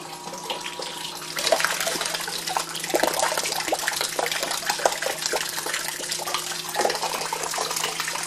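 Water rushes steadily through a stove heating system driven by a pump, a continuous hissing, gurgling flow with a faint mechanical hum beneath and small irregular splashes.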